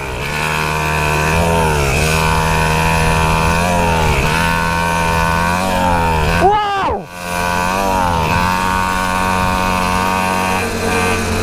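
Pocket bike engine buzzing loudly and close with repeated revs as a wheelie is attempted in a field, a sharp rev swoop near the end, then it settles back to a steady drone.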